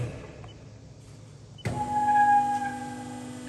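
A 5L SS316L pharmaceutical vacuum planetary mixer with PLC control starts up for a test after a quiet second and a half, then runs as a steady, fairly loud motor hum and whine.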